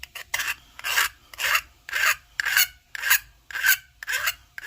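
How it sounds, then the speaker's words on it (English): A metal file rasps casting flash off a cast silver piece in about nine steady strokes, each a crisp scraping burst with brief gaps between, close and fairly loud with no talking. "Now when you're filing, you want to slide it where you're filing."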